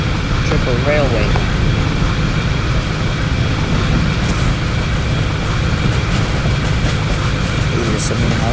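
Train running in a train-driving video game, a steady loud rumble of the moving locomotive and carriages throughout, with a voice talking over it.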